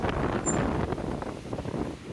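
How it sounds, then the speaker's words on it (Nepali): Strong wind blowing on a mountain road to Mustang, buffeting the microphone with a steady, rumbling roar that holds throughout, with no talk over it. "हावा यस्तो चलेको छ देख्न सक्नुहुन्छ साथीहरू"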